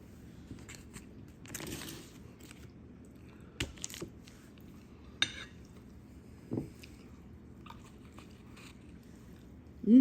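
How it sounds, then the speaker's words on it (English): Keto bread being eaten with kimchi, producing close, crisp bites and wet chewing crunches scattered unevenly across the clip, with quiet gaps between and a louder bite at the end. "sometimes I'll eat this bread with kimchi"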